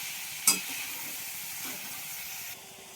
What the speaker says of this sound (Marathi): तेलामध्ये ना शिमला मिरची जरा भाजू दे